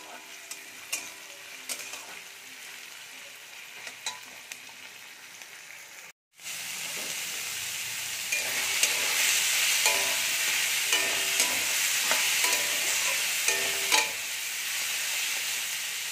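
Boiled soybean chunks and onion frying in a pan, a faint sizzle with light scraping that jumps to a loud steady crackle after a brief break, with repeated stirring clatter over the frying.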